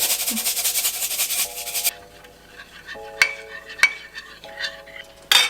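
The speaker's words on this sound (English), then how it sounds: "Then I'm just gonna mix this together." Milk, tapioca, garlic powder and pepper stirred together in a bowl for a vegan, gluten-free batter, giving steady scraping and mixing noise with a few sharp utensil clinks against the bowl.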